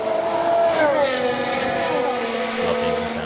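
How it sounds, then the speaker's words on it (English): Formula 1 car engines in the racing game F1 Manager 22 whine steadily and loudly throughout, several high-pitched engine notes overlapping and shifting in pitch as cars accelerate and pass. "Lovely engine sounds."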